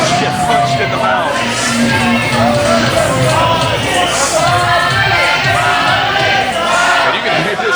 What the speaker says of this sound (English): And you can hear this crowd